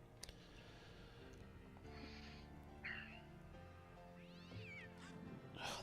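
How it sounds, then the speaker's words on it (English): A cat from the horror film Pet Sematary meows several times, drawn-out and whining, over a low film soundtrack bed. "Oh, that stupid cat."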